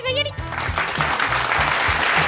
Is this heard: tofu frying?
no